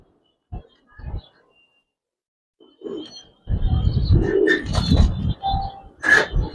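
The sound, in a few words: Giribaz and coloured pigeons at a pigeon farm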